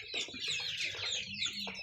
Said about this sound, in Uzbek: Kimga kerak bo'lsa 2 oylik jo'ja mana.